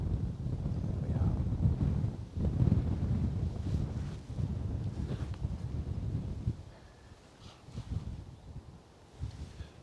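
Wind gusting across an open outdoor spot at Bristol Airport on a sunny bank holiday, a steady low buffeting rush that eases off in the second half, with faint hints of speech underneath.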